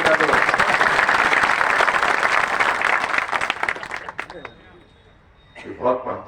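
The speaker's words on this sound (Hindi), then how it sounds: "इसके लिए तो तुम्हें तालियां रहकर बता दो।" Audience applause at a political speech by a Union minister in India, steady loud clapping for about four seconds that fades out, followed by a brief voice near the end.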